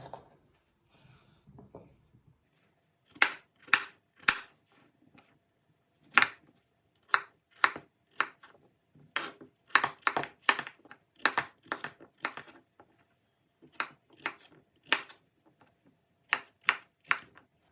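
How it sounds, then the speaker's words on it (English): Knife cutting potatoes into pieces on a board, a steady series of sharp, close chopping taps with short pauses between strokes and no talk. "you're just gonna cut it from the middle again and again"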